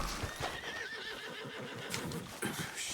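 A horse whinnies with a wavering high neigh, then hooves clop in a steady rhythm, close and clear, in the video game Red Dead Redemption 2.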